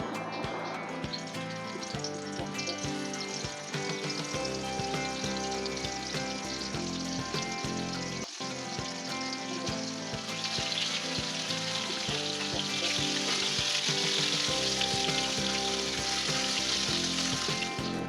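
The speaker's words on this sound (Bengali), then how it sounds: "এখন আমরা মাছটা মেখে ভাজবো।" Koi fish pieces rubbed with salt and turmeric fry in hot oil, giving a loud, continuous crackling sizzle with bubbling spatter that swells stronger toward the end, heard up close without speech.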